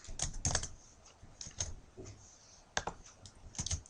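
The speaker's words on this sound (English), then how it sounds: "So I'm going to type" Fingers tap quickly on a computer keyboard in short irregular bursts of light clicks, quiet and close, with brief pauses between words.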